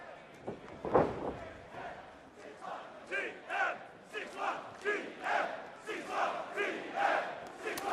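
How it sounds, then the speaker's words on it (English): A WWE NXT wrestling crowd in a Melbourne arena chants in loud, rhythmic bursts that rise and fall about every half second, with commentary mixed underneath. "The crowd behind TM-61 here in Melbourne."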